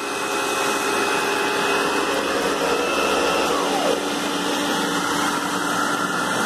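An Electrolux vacuum cleaner runs with its power nozzle, a loud steady whine and rushing roar that holds constant throughout, close up and with no talk.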